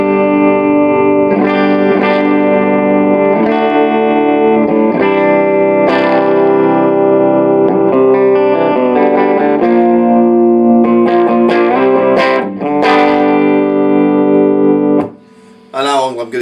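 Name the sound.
electric guitar through Randall RG80 amp, clean channel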